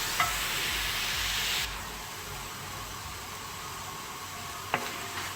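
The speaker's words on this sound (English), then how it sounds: "Now we add the tomatoes. Chop the tomatoes into it. Let the tomatoes also cook well." Chopped tomatoes sizzling in a pan of masala for Kuttanadan duck curry, a steady soft frying hiss that eases partway through, with a brief clink of a utensil near the end.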